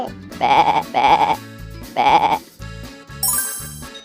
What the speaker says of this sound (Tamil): செம்மறி ஆடு.